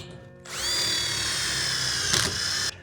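A power drill drives a screw into a high tunnel greenhouse hoop, its motor whining up steadily for about two seconds before cutting off abruptly, close and clear.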